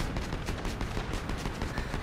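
Rapid bursts of video game gunfire crackle nonstop, dense overlapping shots like automatic weapons firing in a busy battle, loud and close throughout.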